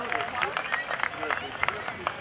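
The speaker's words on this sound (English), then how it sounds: "Ladies and gentlemen, how about a big round of applause for Mark Crunchy Burgess and Sean Carroll." Faint, scattered crowd applause rises from spectators at a naval air station airshow, following an aerial dogfight demonstration by a flight team, with uneven bursts of clapping heard from a distance.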